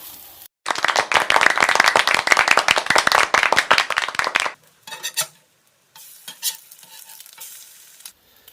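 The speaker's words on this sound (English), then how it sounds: "we're going to fry up these regular eggs" Eggs frying on a Blackstone flat-top griddle, a loud steady sizzle with rapid crackling for several seconds, then fading to quieter intermittent hiss and a few spatula scrapes.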